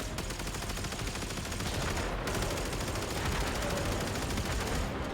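Dense, continuous automatic gunfire from fighters in the Warframe video game, a steady rattling barrage with no pauses, loud and close throughout.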